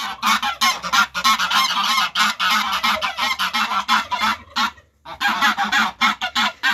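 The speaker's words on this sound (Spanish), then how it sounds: "te presento a mis gansos. Esos son mis escandalosos." Geese honk loudly and repeatedly nearby, a noisy overlapping chorus of harsh calls with only a brief pause before resuming.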